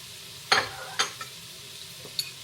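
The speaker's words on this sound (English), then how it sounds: "after the sausage is all browned, you are going to now put in a couple tablespoons of butter." Butter sizzles and pops in a pan with browned sausage, with a few soft, scattered stirring scrapes over a quiet, steady frying hiss.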